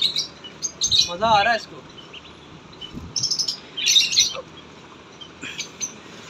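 A pet parrot chirps while eating pomegranate, giving short bright tweets and a quick warbling trill, close to the mic. Someone speaks briefly in between.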